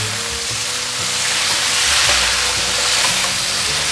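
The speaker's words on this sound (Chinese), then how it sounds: "快速拌炒。 可以加入少许的水，继续翻拌" Vegan vegetables stir-fried in a pan with a splash of water added, giving a loud, steady steam hiss and sizzle close up, with no voices.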